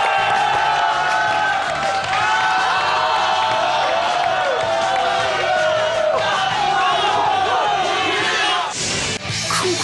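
A studio audience at a televised comedy variety show roars for a singer, with loud, sustained cheering, shouts and yells filling the room for the whole stretch, voices layered throughout.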